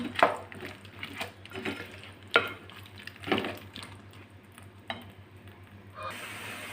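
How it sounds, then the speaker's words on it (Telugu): Raw plantain pieces are stirred in a cooking pot, giving intermittent scraping and clattering strokes of a spoon against the pot, close and moderately quiet, with faint sizzling between strokes. "ఇలా ఈ ముక్కలు ఇందులో వేసేసుకుందామండి. వేసి ఒకసారి కలుపుకుందాం."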